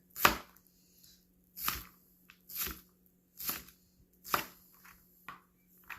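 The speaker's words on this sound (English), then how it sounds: "And then, again, slice away." A kitchen knife slices through shallots on a cutting board in six sharp, evenly spaced chops, close and clear against near silence.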